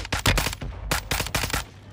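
Rapid bursts of gunfire in a battle royale video game, several loud clustered volleys of sharp shots with brief gaps between them, close and punchy and with no talking.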